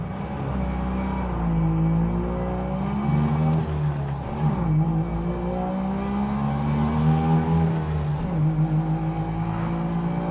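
Car engine accelerating onto a highway, a close in-cabin drone whose pitch climbs steadily through the gears, dipping briefly at shifts before rising again, loud and continuous with no talk.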